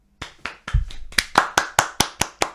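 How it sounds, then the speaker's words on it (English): Two podcast hosts clap for themselves in about ten sharp, evenly spaced claps close to the microphone, starting sparse and settling into a quick steady rhythm. "That's us clapping ourselves."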